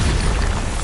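A Bombarda spell explosion in Hogwarts Legacy: a single loud, close booming blast with a heavy low rumble that holds steady for under a second, with no talking.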